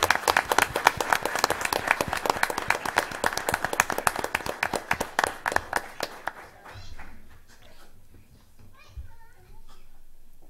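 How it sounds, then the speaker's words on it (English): People at a school board meeting give a round of applause, with brisk, closely spaced clapping for about six seconds that then fades out, followed by scattered voices and light movement in the room. "Let's give them a round of applause."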